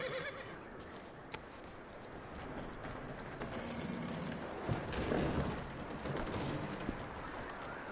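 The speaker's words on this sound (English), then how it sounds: "That looks like a decent horse." A horse in the Red Dead Redemption 2 game whinnies and clip-clops on the ground, with hoof steps and snorts close by over outdoor ambience.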